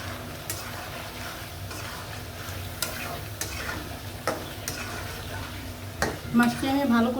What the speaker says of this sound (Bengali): মাছটি আমি ভালো করে কষিয়ে নিব